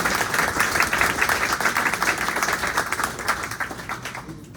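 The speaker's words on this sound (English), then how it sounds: "let's give him a round of applause first" Audience applause for a poet at a bookstore poetry reading in Sarasota, Florida: steady dense clapping from a small indoor crowd, lasting several seconds and tapering off at the end.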